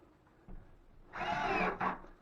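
A power drill drives screws into an existing wall stud behind old sheetrock during a drywall patch: a brief click, then a rising whir that runs about a second before a short second burst, close and fairly quiet.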